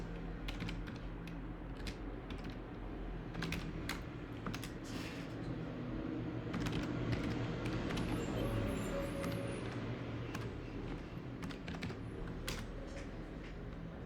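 Quiet tapping on a computer keyboard while logging in over SSH, scattered keystrokes in irregular bursts over a low background hum.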